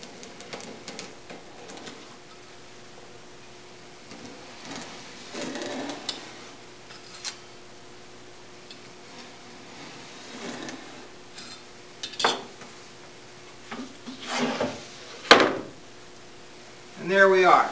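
Veneer saw slicing wood veneer along a straight edge on plywood, with faint scraping and a few sharper rasps and clatters, quiet and intermittent at close range.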